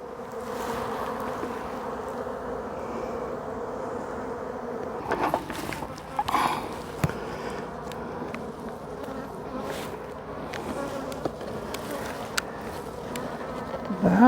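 A steady, dense buzzing of many honey bees close by at an open hive, continuous throughout with occasional louder passes and light handling noises.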